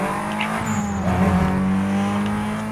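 Car racing in Need For Speed Most Wanted, a steady loud engine drone with a tire squeal sliding briefly over it, continuous and close throughout.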